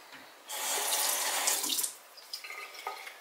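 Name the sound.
water running from a tap, added to a skincare mix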